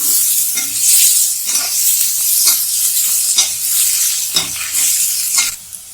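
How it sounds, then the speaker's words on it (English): Roughly sliced onions sizzle loudly in a pan on the way to golden brown for chicken korma, a steady bright frying hiss broken by several soft scrapes and thumps of stirring. "Now we will let the onion become brown, golden brown."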